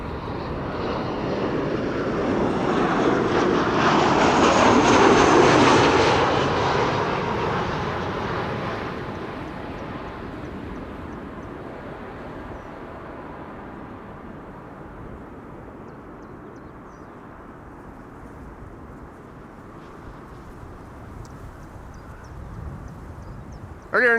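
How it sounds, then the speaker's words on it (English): A KLM Boeing 737-800 jet arriving at Amsterdam Schiphol from Milan roars loudly overhead, swelling to a peak early on. The roar then fades slowly into a long, lower rumble as the aircraft moves away. "This is KLM flight 1614 arriving from Milan, a 737-800."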